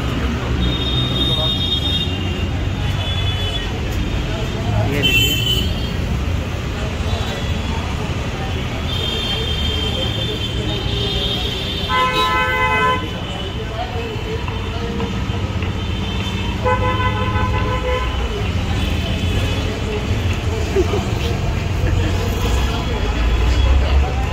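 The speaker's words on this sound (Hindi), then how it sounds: "अभी ये गाड़ी जा रही है पेट्रोल भरवाने के लिए" A car pulling out onto the road gives a few short horn toots, two in quick succession and then more later, over steady traffic and engine noise with voices in the background.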